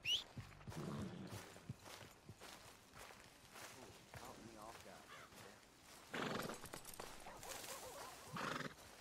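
A horse in the Western video game Red Dead Redemption II whinnies loudly near the start, followed by clip-clopping hooves and footsteps with a few rougher bursts, and a voice speaks briefly.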